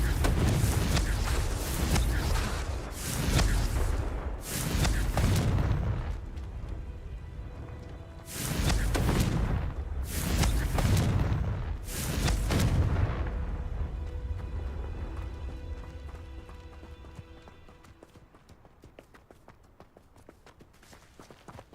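Confringo spell explosions in the video game Hogwarts Legacy burst in heavy booming blasts, about five loud impacts in uneven succession, each trailing a rumbling tail before the sound fades to a low hum.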